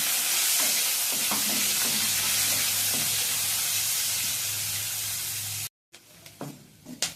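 Steady loud sizzling of onions frying in hot oil with bay leaves, with occasional stirring clinks, then a brief cut and quieter sizzle with scrapes.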